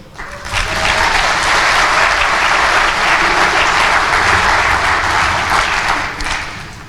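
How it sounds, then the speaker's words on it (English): A large commencement audience breaks into sustained applause, a dense wash of clapping that swells quickly, holds loud and steady for several seconds, then tapers slightly at the end. "you deserve an applause as well"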